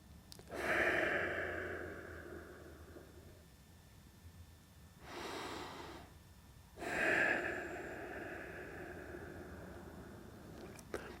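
During a golf fitness stretch, a person takes slow, deep breaths: a long inhale, a pause, then further audible exhales, close and fairly quiet, with no speech.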